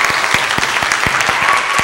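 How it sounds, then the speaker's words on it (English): Audience applause fills a VBS closing assembly, a steady dense wash of many hands clapping at close range with no talking over it. "So let's give a round of applause to thank them."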